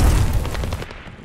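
A loud, close rocket explosion from Call of Duty: Vanguard booms heavily and then rumbles away within about a second.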